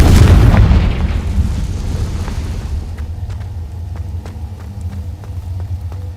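The Confringo explosion spell in the video game Hogwarts Legacy lands as one loud, deep boom, then rumbles and fades into a quieter backdrop scattered with faint clicks.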